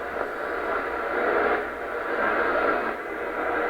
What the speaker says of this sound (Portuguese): Vocês estão ouvindo a chiadeira? Tem uma rádio aqui, tá?